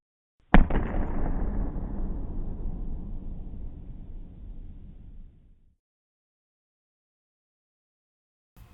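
A single massive factory explosion at Low Moor in 1916 bursts out loud and close, then rumbles and crackles as it slowly dies away over several seconds into silence.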